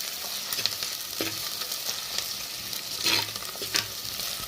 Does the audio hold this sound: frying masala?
yes